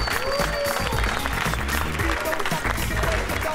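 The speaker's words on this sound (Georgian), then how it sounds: "დიდი მადლობა აპლოდისმენტები ჩვენ სახიობებს" An audience applauds the actors at a stage show, a dense wash of clapping filling the room at close range, mixed with a voice talking.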